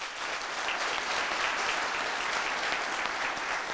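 A studio audience on a television set applauds to welcome a guest, a dense, steady wash of clapping that stays loud and even from start to finish.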